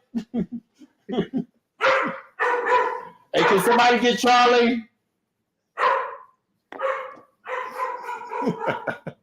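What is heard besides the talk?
guard dog barking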